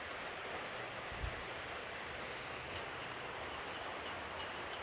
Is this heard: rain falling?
yes